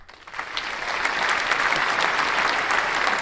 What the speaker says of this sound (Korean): 회의장 여기저기서 우레와 같은 박수가 터져나왔습니다